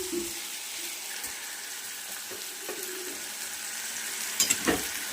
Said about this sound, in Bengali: আমি ঘি দিয়ে আবার একটু নাড়াচাড়া করে দিচ্ছি